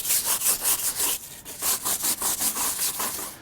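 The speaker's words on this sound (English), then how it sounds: "We've got both our bristle brushes here. We'll do the tires first with our stiffy." A stiff bristle brush scrubbing car tires, rapid rhythmic back-and-forth rasping strokes, close and loud, with a short pause midway and no talk.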